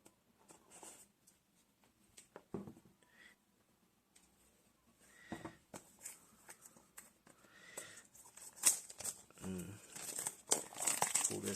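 A dash cam box is cut open with a knife and unpacked, bringing intermittent close crinkling, tearing and rustling of packaging that grows busier toward the end, with quiet gaps between handling sounds.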